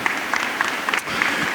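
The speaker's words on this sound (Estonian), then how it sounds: "Publikupoolne aplaus ka, mõõdukas." Brief, moderate audience applause at a talk, a soft patter of scattered claps lasting under two seconds.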